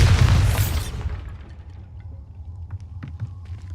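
A Bombarda spell blasts in Hogwarts Legacy, a loud booming burst with heavy low rumble that fades out over a couple of seconds, alone without talk.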